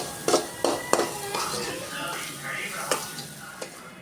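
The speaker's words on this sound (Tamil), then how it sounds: "ரெண்டு முட்டையும் நான் வந்து இதுலேயே உடச்சி ஊற்றிட்டு நான் வந்து நல்லா கிளறிக்கிறேன்" Eggs are cracked into a pan and stirred for egg kothu parotta, giving a steady sizzle of frying under sharp taps and scrapes of a spatula against the metal, close and clear.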